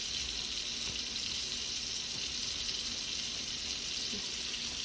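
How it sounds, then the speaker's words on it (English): Water runs steadily from a sink faucet during careful handwashing, a constant even hiss that continues unbroken at moderate volume with no voices. "I'm going to turn off the faucet"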